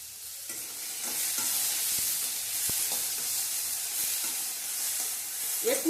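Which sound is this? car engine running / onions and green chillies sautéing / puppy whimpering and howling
onions and green chillies sautéing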